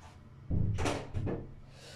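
A bedroom door bangs in a draught through open windows, two quick knocking thuds about half a second apart, fairly close and moderately loud in an otherwise quiet room.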